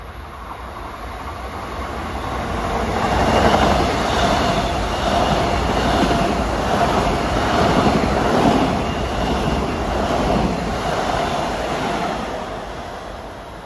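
A Long Island Rail Road M7 electric train bound from Ronkonkoma to Grand Central passes steadily, a sustained rumble with rhythmic wheel clatter that swells near the middle and fades slightly at the end.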